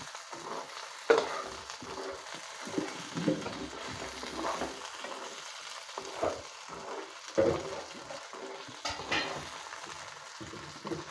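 Local fish frying in a pan and being stirred, with soft steady sizzling broken by occasional scraping clatters of the utensil against the pan, close and fairly quiet, no talk.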